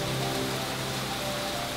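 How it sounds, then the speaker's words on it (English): Steady rain pours down outdoors during a backyard steak grilling session in Florida, a dense, even patter on surfaces that holds at moderate loudness throughout with no talking. "Oh, then it started raining."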